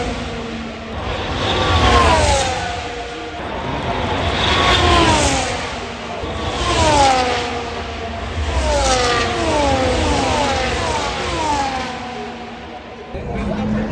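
Formula 1 race cars at the Monza Grand Prix scream past one after another, each high engine whine sweeping down in pitch as it goes by, loud and continuous with overlapping passes from the trackside crowd area.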